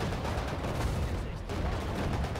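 Gunfire in the World War strategy game Sudden Strike 4 during the Battle of Ypres, a dense continuous barrage of rapid shots and booms blending into a steady roar throughout.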